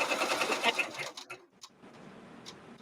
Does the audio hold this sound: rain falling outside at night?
no